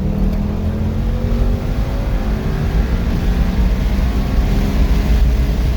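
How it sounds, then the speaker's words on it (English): A 2015–2019 Ford Mustang with an automatic in sport mode, held in second gear and floored until it bangs off the rev limiter; a loud, steady engine drone that stays high and continuous throughout. "toggle down to second gear, and then I'm gonna just floor it and let it hit the limiter"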